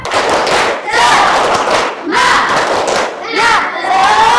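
Children in a classroom perform a rhythmic spirit clap, with loud group claps and shouted chants coming in repeated bursts, each separated by short pauses.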